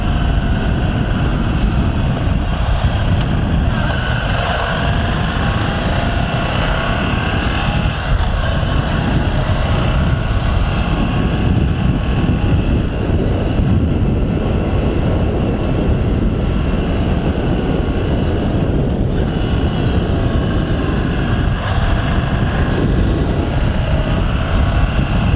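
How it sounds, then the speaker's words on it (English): A 2017 Ducati Scrambler Desert Sled growls steadily through its exhaust while being ridden. The engine roar is dense and continuous, mixed with wind rush, and holds an even level throughout without pauses. "Exhaust gives you a feel of you are in the motorcycle more because it's growling."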